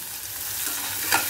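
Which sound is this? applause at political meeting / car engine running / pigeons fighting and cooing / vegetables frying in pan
vegetables frying in pan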